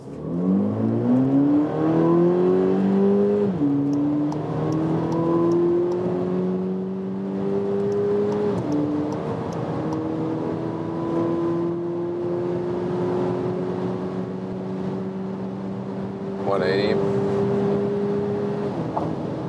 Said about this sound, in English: Rolling start, 40 kilometers an hour, German Autobahn, let's go.